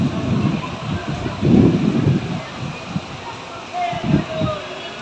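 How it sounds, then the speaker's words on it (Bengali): Heavy rain pours down in a strong storm while gusty wind batters the microphone in loud surging bursts, a constant roar that swells and fades with voices talking underneath. "বিশাল বৃষ্টি হচ্ছে, ঝড় হাওয়া দিচ্ছে।"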